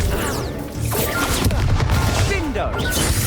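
Explosive bursts from the Confringo fire spell in Hogwarts Legacy, played on Switch: crashing booms and crackling blasts overlapping in quick succession, loud and close amid busy combat effects.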